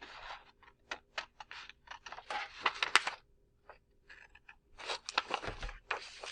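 Scissors snip through folded paper triangle notes in a quick series of crisp, close cuts and rustles, separated by short pauses, with no talking.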